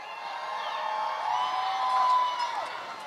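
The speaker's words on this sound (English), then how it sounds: "Cheer if you've ridden the trolley." Outdoor crowd at a holiday tree lighting, cheering and whooping in a steady, sustained swell that peaks briefly before easing off.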